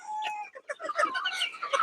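Several Egyptian Fayoumi chickens cluck and chatter close by in quick, overlapping bursts, with no talking over them.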